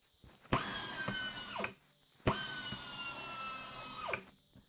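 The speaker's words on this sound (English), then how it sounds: "Now it's running off my compressor" A pneumatic drill running off an air compressor in a home kitchen workshop gives two close, loud high-pitched whining bursts, each spinning up sharply, holding for over a second and winding down with a falling tone.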